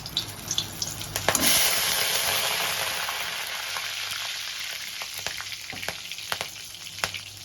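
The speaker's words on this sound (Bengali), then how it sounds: "এবারে ফোড়ন দিয়ে দিলাম। প্রথমে দারচিনি, তারপরে ছোট এলাচ, লবঙ্গ, সাদা জিরে।" Whole cinnamon, green cardamom, cloves and cumin seeds crackle and sizzle in hot oil in a kadai for chicken curry, a steady close frying hiss with a brief louder burst as the spices land and scattered pops, no talking.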